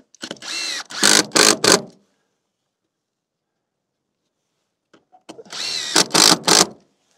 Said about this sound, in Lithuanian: Šaunam po 3 varžtus.